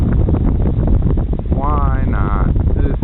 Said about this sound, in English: Really windy though. Sorry if you're catching that.